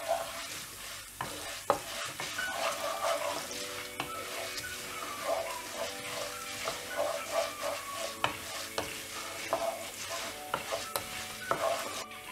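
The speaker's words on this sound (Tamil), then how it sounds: "இந்த உளுத்தம் பருப்பை நல்லா இந்த எண்ணெயில் ஃப்ரை பண்ணி விடணும்." Urad dal fries in oil for coriander thuvaiyal, a close, soft sizzle under repeated rhythmic stirring scrapes with a few sharper clicks of a spoon on the pan.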